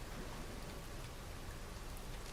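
Steady downpour in the Dragon's Dogma 2 game world, a dense, even hiss of heavy rain falling on surfaces, constant and enveloping with no breaks for the whole stretch.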